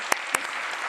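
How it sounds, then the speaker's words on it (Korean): Applause from a church congregation at a Friday evening prayer service, a dense burst of clapping with a couple of sharper claps standing out near the start, steady and fairly close throughout. "박수."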